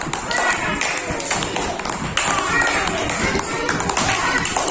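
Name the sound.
children clapping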